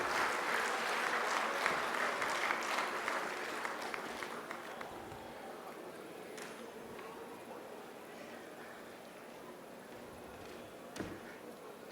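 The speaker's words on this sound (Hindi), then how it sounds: "जोरदार तालियों से स्वागत करेंगे।" Crowd applause welcoming the governor at the closing ceremony of an international forest fair, a moderately distant wash of clapping that slowly fades out over several seconds.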